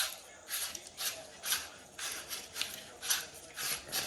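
A castle nut being spun off an AR-15 buffer tube by hand during a side-folding adapter install gives a steady run of soft, rhythmic metallic rasping strokes, about one every half second, close and moderately quiet.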